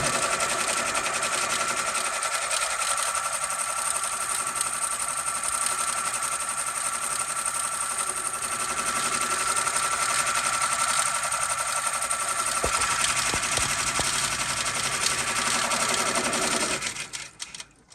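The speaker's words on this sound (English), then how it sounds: "Right now we are running at 800 stitches a minute." A Berger embroidery machine stitching at 800 stitches per minute, a loud continuous rapid mechanical chatter and whir that holds steady before winding down at the end.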